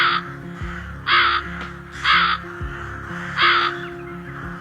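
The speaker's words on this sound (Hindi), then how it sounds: "लोमड़ी की गुफा से जोर जोर से आवाजें आ रही होती हैं कालू कौवे की" A crow caws loudly in a Hindi cartoon, four harsh evenly spaced calls about a second apart, close and prominent over a soft musical background, with no talking.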